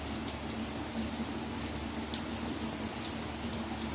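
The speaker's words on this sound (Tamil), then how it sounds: "மழை பெய்யுது நேர்களே, பெரிய மழையாக வருது." Heavy rain pours steadily outdoors with a dense, even hiss of drops on surfaces, continuous and fairly loud with no talking.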